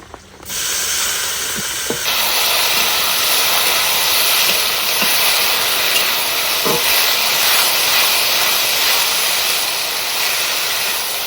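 Taro flowers dropped into hot oil with frying garlic and slit green chillies: after a short quiet start, a loud, dense sizzling hiss swells up and holds steadily, with a few faint clicks of utensils over it.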